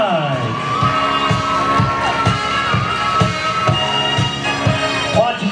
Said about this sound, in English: Watch you keep them hands clapping.